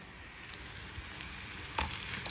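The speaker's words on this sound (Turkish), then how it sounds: "Evet pirinçlerim güzelce kavruldu." Rice toasts in a pan for pilaf, a soft continuous sizzle with a few light scrapes of stirring, close and steady, no talking.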